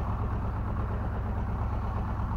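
A tractor harrowing a wet, boggy field runs at a steady low rumble, its engine droning evenly and continuously without pauses or voices.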